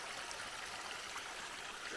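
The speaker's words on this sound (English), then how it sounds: "you got waterfalls all over the place because the snow is melting" Waterfall fed by melting snow in the Washington wilderness, a steady broad rush of falling water, close and continuous with no voices.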